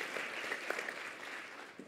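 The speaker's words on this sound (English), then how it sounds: "So, round of applause, Margie." Conference audience clapping steadily, a continuous moderate wash of applause with no voices over it, heard from within the room.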